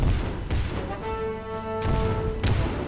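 Cannons fire in a real-time strategy battle in Rise of Nations, sharp booms landing in a loose rhythm at roughly half-second to one-second gaps, loud and close, over a steady game soundscape with sustained tonal music.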